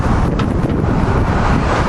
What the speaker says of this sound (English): Here we got an Amtrak train coming south.